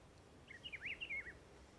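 A brief burst of high, thin bird chirps sounds on the Overpass map in CS:GO, faint and close-ish over a low ambient hum, lasting under a second.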